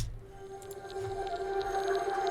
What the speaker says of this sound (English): this atmosphere, which is something out of Omnisphere that I just folded down